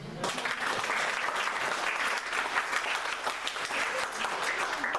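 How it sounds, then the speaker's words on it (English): Steady, dense applause from a church congregation during a service, a continuous wash of clapping hands at moderate distance with no talk over it. "Let's go ahead and finish that round of applause."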